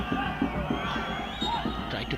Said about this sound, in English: The Bhutanese fans gathered on the stands are in full cheer mode.